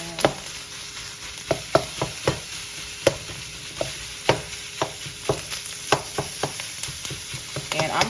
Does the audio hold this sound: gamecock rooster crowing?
no